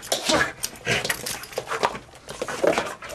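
A dog whimpers and gives short yips in a handful of quick bursts, close and fairly loud, while an owner urges it to fetch a toy.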